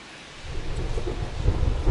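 Thunderstorm weather at Busch Stadium in St. Louis in MLB The Show 2026, a deep rolling thunder rumble swelling under a hiss of heavy rain, growing louder toward the end with no voices.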